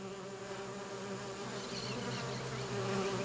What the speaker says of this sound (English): 26 Africanized queens escaped, along with a swarm of worker bees